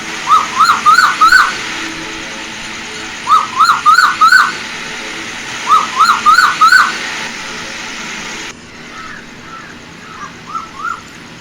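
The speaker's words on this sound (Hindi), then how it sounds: "सुबह 5 बजे ही कोयल की चहचहाती आवाज़ ने मुझे जगा दिया" Asian koel calling at dawn in a village: three loud bursts of four or five quick rising, whistled notes, then a fainter, more distant set of calls.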